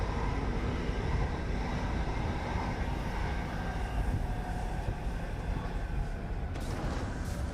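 A train rolls past in the Star Citizen video game, a steady loud rumbling roar with rattling wagon noise that holds for several seconds, heard alone.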